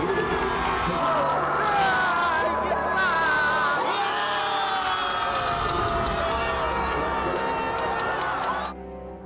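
A large crowd roars and cheers loudly and continuously as the impeachment motion against President Yoon Suk Yeol passes on December 14, a dense wall of shouting that fades at the very end.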